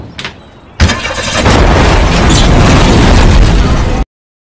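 A sabotaged car explodes in a film scene, a sudden loud blast after a brief engine sound, followed by a sustained roaring burst of fire and debris that cuts off abruptly.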